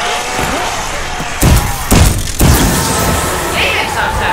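Explosions in a zombies video game, three heavy booming thumps about half a second apart, loud and close, over a background of game noise and someone talking.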